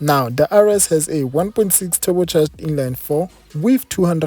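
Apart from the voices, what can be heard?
None of the usual background noises is heard.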